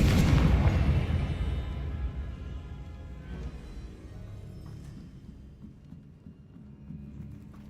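Confringo fire spell bursting in Hogwarts Legacy: a loud booming blast at the start that rumbles and slowly fades over several seconds, with no voices.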